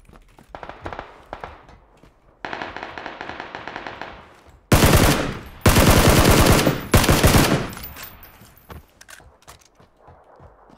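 Loud bursts of automatic gunfire from the PUBG battle royale shooter, rapid-fire volleys with short gaps between them, the heaviest and most sustained near the middle and then tapering into scattered single shots.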